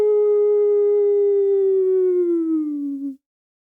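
A human voice imitates a wolf with one long sustained howl, loud and close, holding a steady pitch before sliding down and cutting off after about three seconds.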